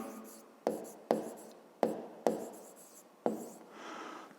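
Pen writing on paper while working a fifth-grade math exercise, a series of soft, close strokes with five distinct taps or stroke starts spaced unevenly over a few seconds, with no talking.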